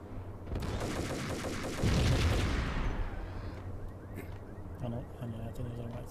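Colt pistol gunfire in the video game Max Payne starts with a sudden burst of shots building to a heavy blast, then trails off into echoing reverberation and quieter game sounds.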